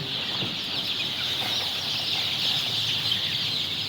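Young broiler chickens on a poultry farm make a dense, steady chorus of high peeping and clucking, constant and moderately loud with no voices over it.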